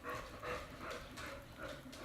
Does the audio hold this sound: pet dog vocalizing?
yes